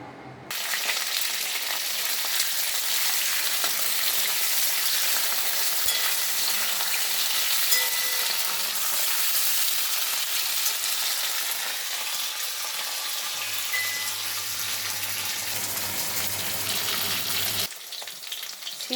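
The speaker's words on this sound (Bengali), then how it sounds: "এখন ওই তেলের মধ্যেই আমি শিম ও আলুগুলোকে ভেজে নেব" Sliced flat beans and potatoes fry in hot oil, a loud, dense, continuous sizzle with faint stirring scrapes running throughout, and no one speaking.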